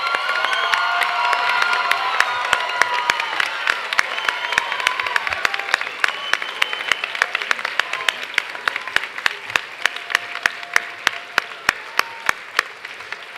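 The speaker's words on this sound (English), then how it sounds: "please stand and give a round of applause to the 2019 graduating class" Standing audience applauds and cheers the 2019 graduating class at a college graduation ceremony: dense clapping with whoops and shouts on top, sharp individual claps cracking through as the ovation gradually thins.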